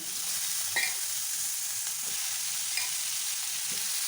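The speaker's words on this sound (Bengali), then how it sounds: "এটাকে একটু ভেজে নেব আমি এবার তরমুজগুলো এবার দিয়ে দিলাম" Watermelon rind pieces fry in a pan with a steady broadband sizzle, with a few light clinks and stirring taps scattered through it.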